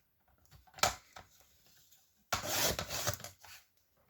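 Paper card is cut along a diagonal for scrapbooking, giving a short scrape, then a longer rasping cut close by in a quiet room.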